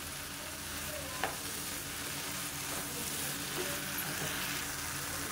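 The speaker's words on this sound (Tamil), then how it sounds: "மஷ்ரூம்லேருந்து தண்ணி வரும். அந்த தண்ணி வர்ற வரைக்கும் நல்லா வதக்கி விட்டுக்கணும்." Mushrooms sautéing in a pan, cooked down until their water releases, give a steady close sizzle with a couple of faint stirring scrapes, heard on its own without talk.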